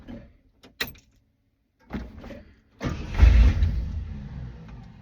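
An old truck cranked and started in the cold: a few clicks and a door-like thump, a brief grinding crank, then the engine catches and settles into a loud, rough, rumbling idle.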